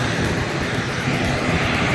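Steady, loud broadband engine roar fills the whole stretch, a constant droning rumble like an airplane cabin in flight, with no talking.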